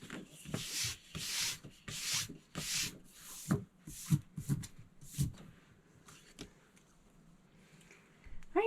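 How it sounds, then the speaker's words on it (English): Adhesive is rubbed off a punched paper frame with a series of close, rhythmic scratchy rubbing strokes, fading into quieter scattered rubs. "I got a little overzealous with my rubbing."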